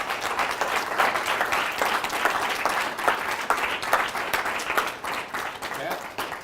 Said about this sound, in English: Why don't we give Pat a big round of applause.